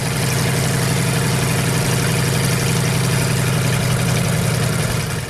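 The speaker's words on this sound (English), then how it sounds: "Increase the volume to fully appreciate the sound of the Continental R 975C4 radial engine, producing 450 horsepower." A Continental R975C4 radial engine of 450 horsepower, the powerplant of a restored Sherman M4A1E8 tank, runs steadily and loudly throughout, a dense low rumble with a rapid firing pulse and no speech over it.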